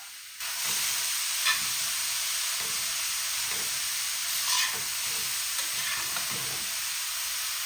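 Grated radish filling for paratha fries in a pan with a continuous sizzling hiss. Occasional soft stirring scrapes rise over it, close by, and no voices are heard.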